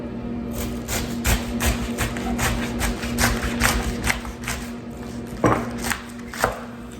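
A knife cuts through tender roasted cabbage steaks with bacon, a run of close, fairly regular cutting strokes and board taps that grow more spaced out toward the end.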